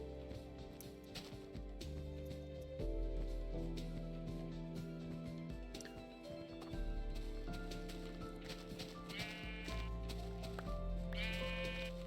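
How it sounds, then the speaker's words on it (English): Minecraft sheep bleat a few times in a video game, short nasal cries rising over a steady bed of layered game music and ambient tones, with no talk. "Come on, sheep. Give me your wool."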